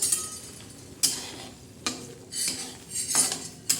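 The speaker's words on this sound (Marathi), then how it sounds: "मटणाला हे मसाल्याला बघा कसं गदा गदा शिजतो" Mutton masala cooking in a pan: a spoon scrapes and clatters against the metal in several irregular strokes over a soft sizzling simmer, close up with no voices.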